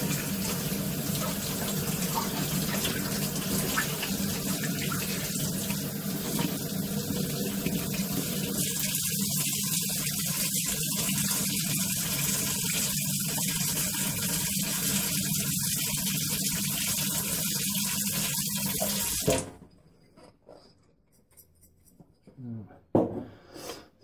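A glass bottle dug from an old dump is washed under a running tap, with steady broadband water rush and splashing for about nineteen seconds before the flow cuts off, leaving quiet handling clatter.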